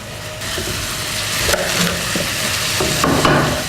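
Shrimp fry in a pan for a spring salad, giving a steady close sizzle with stirring scrapes and small clatters throughout, with no talking.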